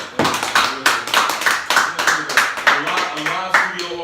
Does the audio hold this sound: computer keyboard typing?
no